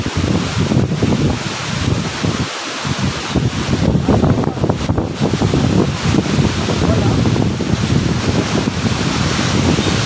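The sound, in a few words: strong wind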